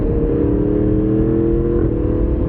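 A Yamaha MT-10SP motorcycle with a crossplane engine pulls hard after a downshift, giving a loud, steady, droning engine note that rises slightly in pitch. It is heard alone and up close, with no voices.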